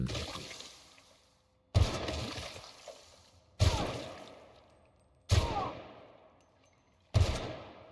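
Five sharp, loud gunshots ring out in The Outer Worlds: Spacer's Choice Edition, spaced about two seconds apart, each followed by a decaying echo and trailing rattle, with no talk.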